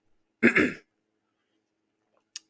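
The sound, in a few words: throat clearing from bronchitis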